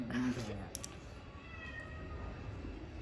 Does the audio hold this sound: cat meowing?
yes